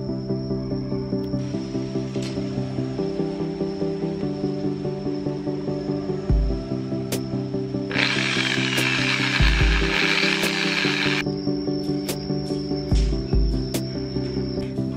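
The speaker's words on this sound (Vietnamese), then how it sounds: "thì bước tiếp theo mình sẽ khoan cái lỗ giữa hai cái lóng tre này nha các bạn" A drill bores a hole between two segments of small bamboo, a steady whirring motor with rhythmic ratcheting clicks and a louder burst of grinding as the bit cuts in, close and continuous without talk.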